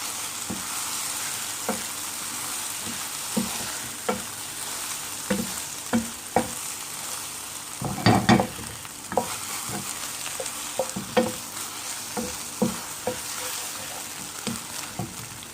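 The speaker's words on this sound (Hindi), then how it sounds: "मैंने ये अंडा आपके सामने फ्राई किया है" Beaten egg frying in a hot pan for egg fried rice, a steady sizzle broken by repeated scraping and stirring strokes of a spatula, close and moderately loud, with no speech.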